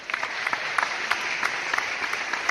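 Applause sound effect dropped into a talk show, a steady wash of dense clapping from a crowd heard alone at moderate level for a couple of seconds.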